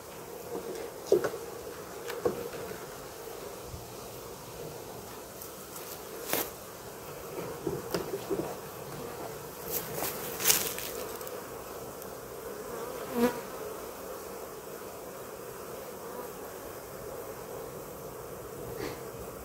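Bees buzz steadily around a small hive, a dense low drone heard close up, broken by occasional knocks and taps from handling the hive.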